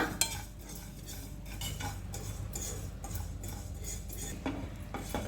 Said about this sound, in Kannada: ಸ್ವಲ್ಪ 1-2 ಸ್ಪೂನು ಬಿಳಿ ಎಳ್ಳನ್ನು ಹುರ್ಕೋತಾ ಇದ್ದೀನಿ